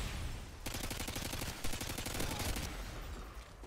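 Rapid automatic fire from an ACR rifle in Modern Warfare 2, sustained bursts of sharp repeated shots that are dense and continuous, with a short lull at the start and a fade at the end.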